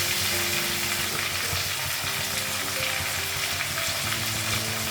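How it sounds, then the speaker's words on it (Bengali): Cauliflower frying with potatoes, green and dried chillies in a home kitchen pan, producing a dense, continuous sizzle with faint stirring, close and steady throughout. "ফুলকপিটা অল্প ভাজা হয়ে গেছে।"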